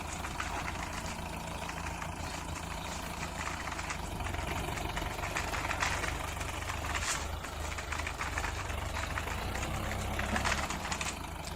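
A green toy tractor hauling a trolley loaded with marbles is driven along, giving a continuous rumbling engine drone with a steady low knock, close and constant with no talk.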